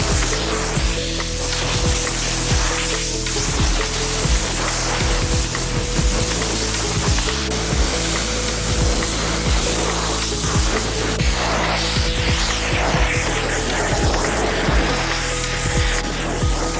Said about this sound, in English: And now we rinse.